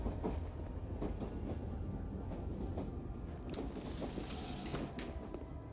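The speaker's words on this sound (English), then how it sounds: "Whoa, that is a big train." A train in the video game Dreamkiller rumbles past with a low continuous roar and scattered metallic clacks, steady and fairly close throughout.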